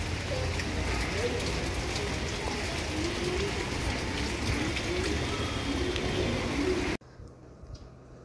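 Rain falling outdoors near a school, a steady, moderately loud patter for about seven seconds with faint bird calls, then cutting off abruptly.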